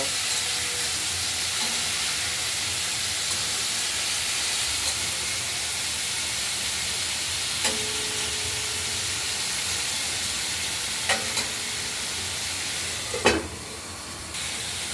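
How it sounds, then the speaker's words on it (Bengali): Tomatoes and potatoes fry in a pan with a steady, loud sizzle and hiss, broken by a few scraping stirs and a sharp clink near the end. "টমেটোগুলো দিয়ে দেওয়া হলো নাড়াচাড়া করব"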